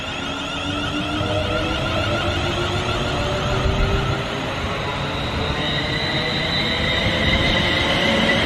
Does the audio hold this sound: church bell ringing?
no